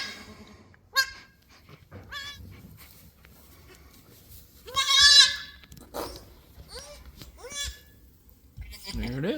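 Newborn quadruplet lambs bleat in a barn pen, a string of short, sharp, wavering cries, some close and loud, others softer, scattered across quiet gaps.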